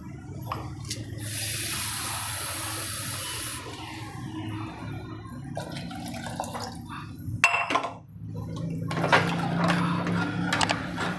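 Water pours and splashes into a pot of thick Rajasthani dal, followed by scattered drips, clinks and soft rubbing sounds.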